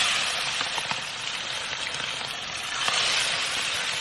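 Chicken skin fries in hot oil, with a steady, close sizzle and crackle holding evenly throughout and no talk over it.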